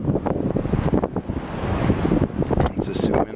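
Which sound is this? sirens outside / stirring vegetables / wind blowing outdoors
wind blowing outdoors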